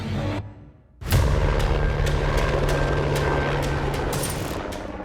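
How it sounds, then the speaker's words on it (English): Helicopter flying in to the Mount St. Helens eruption zone, a steady loud rotor and engine drone that starts abruptly after a brief quiet moment and holds close and constant. "eff Renner and his cameraman, Mark Anderson, rush in aboard a helicopter"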